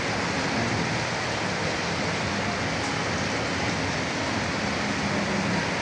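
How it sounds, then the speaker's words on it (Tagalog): Heavy rain falls during a storm in Manila as a dense, constant hiss with a low rumble underneath, loud and unbroken throughout, with no voices. "Tingnan niyo mga idol, oh, maulan sa Maynila. Lakas."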